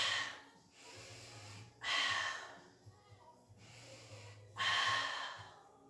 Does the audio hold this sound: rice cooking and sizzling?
no